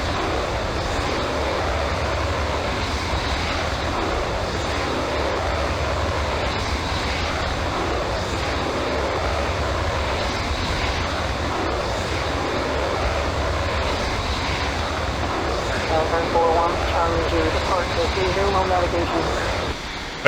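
Fighter jet engine roaring steadily during takeoff in the Falcon 4 Allied Force flight game, a continuous airy rumble with radio voices talking over it.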